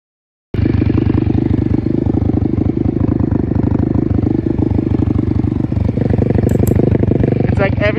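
A 125cc dirt bike engine kicks in after a short silence and drones steadily while riding, a loud close rattling putter with small rev changes and a high chirp near the end.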